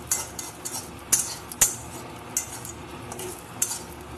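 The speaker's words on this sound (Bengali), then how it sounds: "তা ভালো করে একটু নেড়ে চেড়ে ভেজে নিতে হবে, তাহলে ভিতরে ডিমটা একটু ফুলে ফুলে উঠবে।" An egg omelette fries in a pan while a utensil stirs and scrapes it, sharp metallic clinks landing irregularly over a soft background sizzle.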